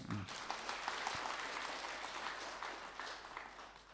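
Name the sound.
audience applause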